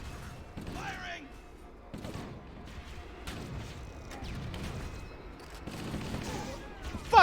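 Gunfire from the Halo video game: bursts of weapon fire run under excited live commentary from a player, with a sharp loud crack right at the end.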